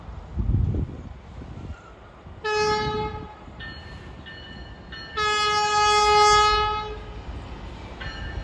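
A New Jersey Transit train horn blasts a multi-note, trumpet-like chord in several bursts, the longest held for a couple of seconds, over the rumble of a passing train.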